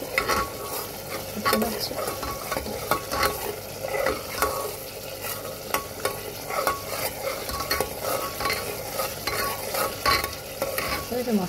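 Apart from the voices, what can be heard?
stirring and frying spice paste (masala) in a pan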